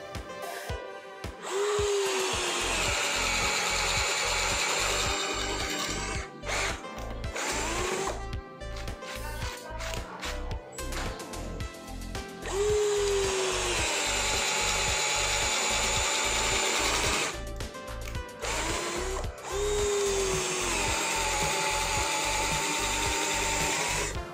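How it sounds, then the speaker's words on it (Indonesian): A Bitec BID1 cordless impact drill whines steadily as a 25 mm spade bit bores into 2 cm mahogany, the motor pitch shifting with load across three long runs, close and loud. "saya menggunakan mata bor speedbit atau mata bor kipas ukuran 25 mm pada mode drilling"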